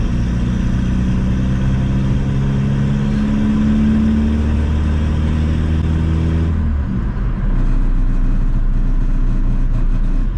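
A turbocharged VW Polo TDI diesel engine drones steadily and loudly, rising in pitch as it accelerates, then shifts and settles into a lower rumble as driving continues.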